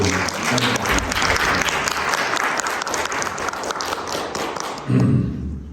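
Church congregation applauding to welcome visiting guests during a Sunday service, a dense, steady wash of clapping filling the room, with a brief murmur of voices near the end.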